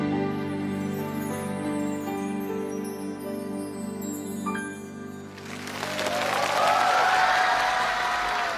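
A studio audience on a Chinese televised poetry-and-music show breaks into loud, sustained applause as a sung passage fades, the clapping filling the final few seconds.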